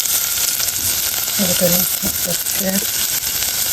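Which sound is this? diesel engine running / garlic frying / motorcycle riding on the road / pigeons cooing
garlic frying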